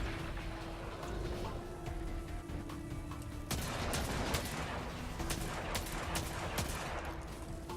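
Gunfire in a sci-fi video game as an enemy shoots at the player, with dense, continuous bursts of rapid shots and blasts that grow harsher halfway through over a constant background hum.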